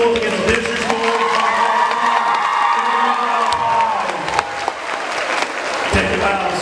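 A crowd at a middle school homecoming pep rally claps and cheers loudly. Shouts and whoops rise from the students over steady applause that runs through the whole stretch, with voices mixed in.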